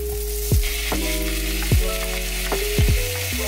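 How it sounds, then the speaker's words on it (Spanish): Nopales sizzling with onion in a hot pan, a steady close frying hiss broken by a few sharp clacks of a utensil stirring against the pan. "Ahora vamos a agregarlos a la cebolla para que también se sofrían por unos 5 minutos."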